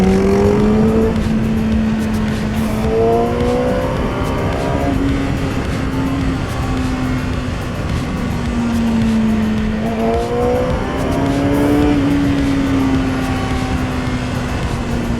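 A Yamaha R6 motorcycle's engine hums loudly and steadily from up close, its pitch rising and falling in repeated acceleration pulls and then easing back, with constant wind rush underneath.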